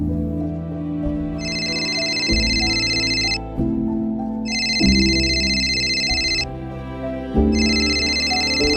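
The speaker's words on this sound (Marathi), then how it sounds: "मला वाटतं त्यांचाच फोन असावा." A telephone ringtone repeats in three long bursts over a steady, loud background of tonal music in a home scene of a short film.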